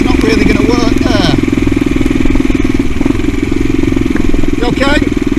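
A CCM Blackout motorcycle's engine drones steadily while riding on a road, a close, continuous mid-pitched throb with slight revving swells, as people talk over it.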